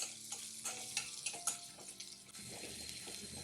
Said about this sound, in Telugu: ఇది ఇలా కాస్త ఫ్రై అయ్యాక ఇందులోకి కట్ చేసి పెట్టిన ఉల్లిపాయ ముక్కల్ని తీసుకొని ఫ్రై చేయండి